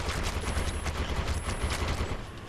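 Shotguns and machine guns fire in the PlayStation 3 shooter Defiance: dense, rapid overlapping bursts that continue the whole time at moderate loudness, with no talking.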